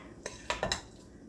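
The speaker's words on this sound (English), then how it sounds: "blending it with a large spoon so we can get it blended" A large spoon knocks and clinks against a bowl while turkey meatloaf mixture with eggs, ketchup, vinegar and brown sugar is blended, a handful of quiet, close taps and scrapes.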